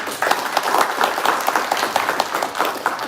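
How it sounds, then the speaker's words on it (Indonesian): Steady applause from a seminar audience at a business event, dense continuous clapping filling the room at a constant level from start to finish. "Beri tepuk tangan untuk Bapak Nurholis"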